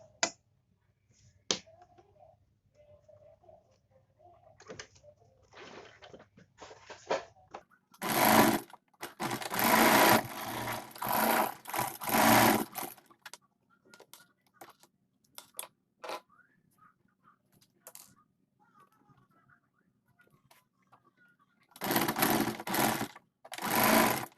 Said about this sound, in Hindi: अब हम इलास्टिक को फैब्रिक को इस तरह से इकट्ठा पकड़ते हुए फैब्रिक की दोनों साइड इसी तरह से डबल सिलाई लगा लेंगे।